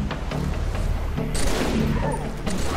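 Halo 3 campaign combat: a dense, sustained barrage of gunfire with booming impacts, loud and continuous throughout.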